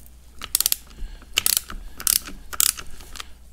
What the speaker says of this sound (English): now we'll loosen the pinch bolts